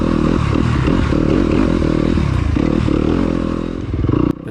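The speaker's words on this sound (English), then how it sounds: "I'm on my 2021 Yamaha YZ250FX" A 2021 Yamaha YZ250FX dirt bike engine running loud and close on a dry, dusty enduro trail in Byhalia, Mississippi. The throttle is held steady with slight rises and falls, and light clatter and scraping sound along the ride.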